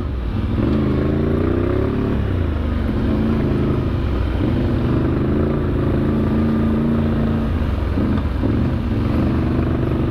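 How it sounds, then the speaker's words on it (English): Motorcycles or ATVs pass along a road in Newfoundland, a steady loud engine drone with rising and falling pitch as vehicles come and go, continuous throughout. "Bikes coming, bikes going."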